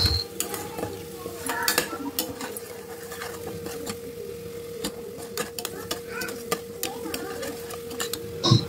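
Ginger garlic paste frying in oil in a pan while being stirred, a steady low sizzle with scattered utensil scrapes and clinks against the pan, close and continuous.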